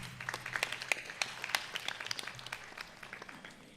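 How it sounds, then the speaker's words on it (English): Audience applause at a devotional music event, a modest crowd clapping in scattered, uneven bursts that sound somewhat distant and fairly quiet, with a low background hum underneath. "We welcome him once again with a huge round of applause."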